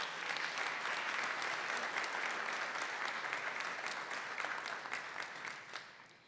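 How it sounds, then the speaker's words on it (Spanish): An audience at a public forum on social security and health in Mexico City applauds a speaker, a dense, even burst of clapping that holds steady and then tapers off at the end. "Un aplauso para él, por favor."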